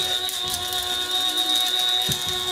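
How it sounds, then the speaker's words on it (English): An electric grinder's steady whirring motor, with a rapid, rattling patter of whole spice seeds pinging against plastic, close and continuous. "That noise is all of those seeds kind of hitting the plastic."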